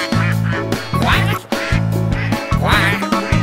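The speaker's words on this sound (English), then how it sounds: "With a quack quack here and a quack quack there." Cartoon duck quacking in a nursery rhyme video game, loud, repeated nasal quacks in quick rhythmic succession over a bouncy musical backing.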